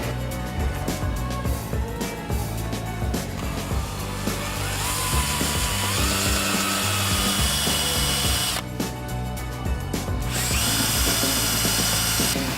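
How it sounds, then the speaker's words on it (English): A power polisher spins on lacquered carbon fibre with polishing compound, giving a close, steady, buzzing whir that changes pitch as the pad is pressed and lifted. "When you are polishing, you want to be polishing out towards edges."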